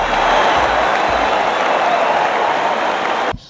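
A large arena crowd at a Hawkeyes versus Wolverines college basketball game, Carver Hawkeye Arena, applauds loudly and steadily with a dense wash of clapping, then cuts off abruptly near the end.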